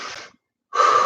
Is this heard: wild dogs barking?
no